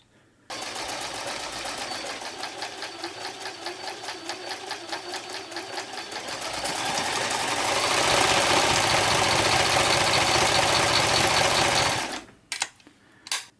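A Janome Combi two-in-one sewing machine and serger runs a straight stretch stitch, a steady close mechanical whir with a rapid needle rhythm that grows louder and faster midway, then stops with a few clicks.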